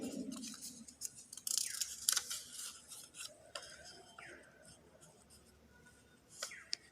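Scissors snip through paper to cut out a small drawn flower with petals, giving a few brief crisp cuts and rustles close by, with a teacher talking at times and light handling noise between cuts.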